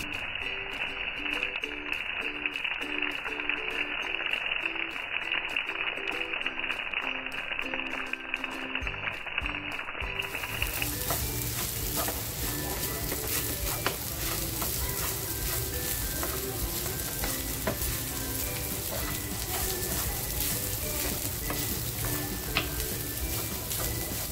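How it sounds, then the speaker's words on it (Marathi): Sabudana khichdi goes into a hot pan and is stirred. A quieter ticking stretch gives way to a dense, steady sizzle with faint scrapes that carries on to the end, with no talking. "आता हा साबुदाणा आहे ना मी पॅन मध्ये टाकणार आहे।"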